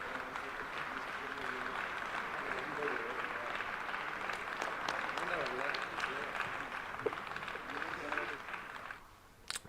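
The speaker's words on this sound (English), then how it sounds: "Clapping is a good sign." A launch control room during the first SSLV rocket launch fills with steady, sustained clapping that runs almost the whole time and then drops away near the end, with voices talking underneath.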